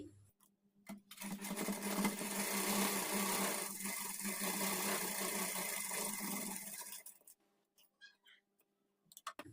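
A sewing machine runs steadily for about six seconds while stitching the edge of a blouse sleeve, a close, dense mechanical whir that stops abruptly, followed by a few faint handling clicks.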